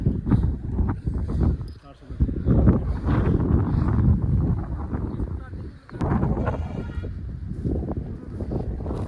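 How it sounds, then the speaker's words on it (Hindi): Strong wind blows outdoors in the Himalayan region, rumbling steadily against the microphone while someone talks over it throughout. "और क्या मस्त हवा चल रही है"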